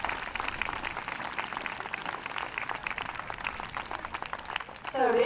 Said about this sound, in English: give them a clap as they leave the ring